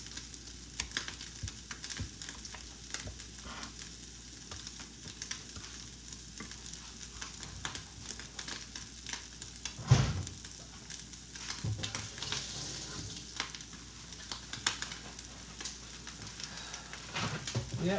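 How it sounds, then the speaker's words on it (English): Pulled pork stirred and scraped around a hot pan, soft sizzling with irregular scraping strokes and one louder knock midway, continuous and close with no voices. "right now I'm just stirring up my pulled pork"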